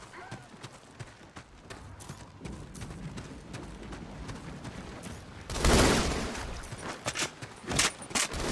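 Gunfire rattles out in the Halo video game in quick bursts, with a louder volley near the middle, while a person talks over the action.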